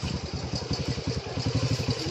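Motorcycle engine idling close by with a steady low chugging pulse and slight clatter, alone without talk, on a roadside in Sta Rita, Capas, Tarlac.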